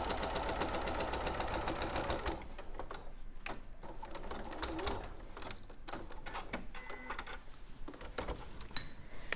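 A sewing machine stitching a cotton bag pocket, a fast continuous whir at first, then shorter intermittent bursts of stitching at low volume.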